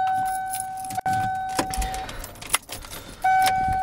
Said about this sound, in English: Get the right key going here